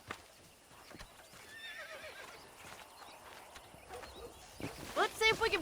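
Horses whinny and neigh in a Western video game set on a ranch, with clip-clop hooves and footsteps; a sharp close neigh rises near the end over quiet background ambience.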